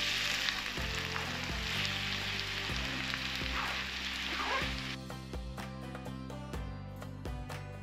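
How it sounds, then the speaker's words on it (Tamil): Finely chopped onions sizzle in about four tablespoons of hot oil for Mughlai curd chicken, a dense, even frying hiss with occasional stirring over quiet background music. "பொடிசாக வெட்டி வச்சுருக்கிற வெங்காயத்தை சேர்த்துக்கலாம்."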